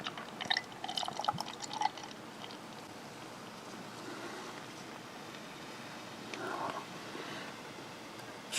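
Founders Breakfast Stout, a chocolate coffee oatmeal stout, is poured hard into a glass, making a soft, bubbling liquid trickle that fades to a faint fizz, with no talking.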